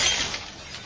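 A stylish glass coffee table thrown off a 20-story building smashes on impact, a single brief bright crash of breaking glass that fades quickly.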